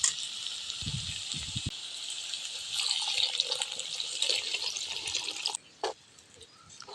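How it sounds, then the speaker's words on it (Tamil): Water pours steadily into a pot of bottle gourd and groundnut curry, a soft continuous splashing stream that stops near the end, with a few faint clinks. "நாம தேவையான தண்ணி ஊற்றிக்கலாம்"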